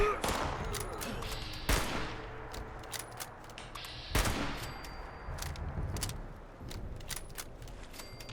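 Gunfire rings out in Fallout 76 as shots are aimed at Scorched enemies below, with two loud blasts standing out among a steady stream of rapid shots over a noisy game background.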